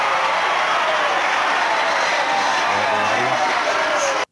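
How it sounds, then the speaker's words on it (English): A wrestling arena crowd cheers in a loud, dense roar that holds steady before cutting off abruptly, with a voice mixed into the noise. "there's the look at the crowd pop"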